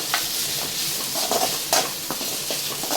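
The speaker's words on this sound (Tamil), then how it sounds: "சரி அதையும் சேர்த்து நல்லா வதக்கிடலாம்." Vegetables sauté and sizzle steadily in a hot pan while a spoon stirs and scrapes them, with close, clattering strokes repeating over the continuous frying hiss.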